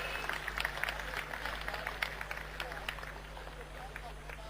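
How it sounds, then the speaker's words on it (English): A convocation crowd claps and applauds steadily at moderate distance, a dense patter of hands with a low hum underneath. "Let's have a huge round of applause, please."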